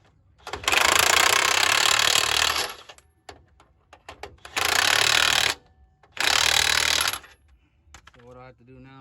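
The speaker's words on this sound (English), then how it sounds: "All right, now grab your good old impact here." An impact wrench runs nuts down onto leaf spring bolts on a 1980-1997 Ford F-250/F-350 with twin I-beam suspension: three loud, close bursts of hammering rattle separated by short pauses, with a voice speaking briefly at the end.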